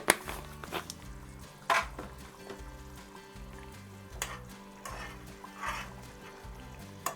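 Egg pulusu curry is stirred in a pan after adding water, kasuri methi and coriander powder: soft scrapes and occasional spoon clanks, fairly faint under background music.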